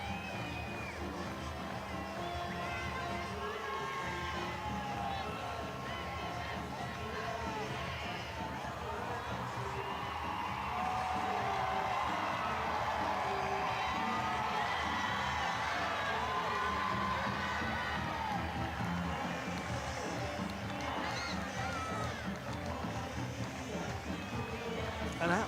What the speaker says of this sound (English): An absolutely thrilled crowd gathering at the Centro Deportivo de Hockey Césped.